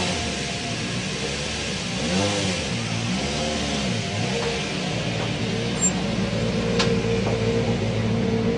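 Rally cars rolling in to the finish podium, engines idling and revving at moderate distance with a steady rumble and rising and falling pitch sweeps, mixed with faint crowd ambience.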